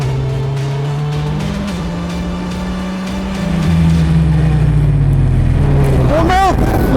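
A Formula 4 race car locking up its brakes on track, a loud engine drone that shifts pitch and surges, followed by a brief sharp tire squeal near the end, close and continuous.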